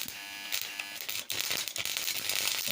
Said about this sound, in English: Still trying to weld.